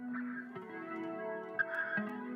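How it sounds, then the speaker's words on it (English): Sustained electric guitar tones run through a physical guitar pedal, with a processed, effected sheen, notes shifting a few times over a couple of seconds, fairly quiet. "So we hooked up a guitar to a guitar pedal. A physical guitar pedal."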